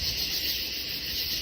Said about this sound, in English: There's just tree frogs and bugs and typical Missouri sounds.